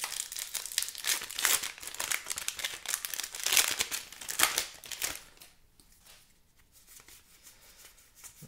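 Foil wrapper of a Dominaria Remastered Magic booster pack crinkling and tearing open up close, busy crackling for about five seconds, then fading to faint, sparse rustles.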